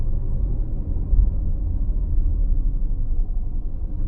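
A car engine hums in first gear during a driving lesson: a steady, low rumbling drone that stays fairly even and close throughout, with no talking.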